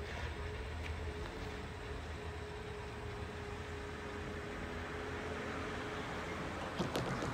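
A train hauled by F40PH diesel locomotives passes at Mount Albert, Melbourne, as a steady, loud rumble with a faint sustained tone, growing a little busier toward the end.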